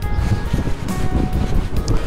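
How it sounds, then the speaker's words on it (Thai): Wind gusts across a seaside shoreline in a coastal Italian neighborhood in the USA, a steady rushing buffet of microphone wind noise with surf-like swells, close and fairly loud, with no talk. "มันยังมีลมอยู่เนาะ"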